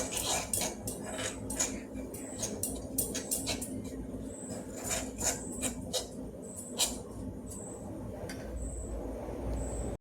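Metal spoon scraping and clinking against a bowl while tea powder and coffee powder are mixed, quick repeated rasps and taps, close and moderately quiet, with no talk.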